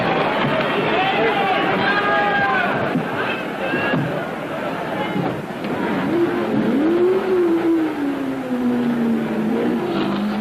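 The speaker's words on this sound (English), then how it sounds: "Ronnie Bucknam, driving the number 57 Ford Mark II, leads the pack off the starting grid." Ford Mark II race cars pull away from the Le Mans 24 Hours starting grid, a sustained loud roar of engines rising and sweeping past with a narrator talking over it.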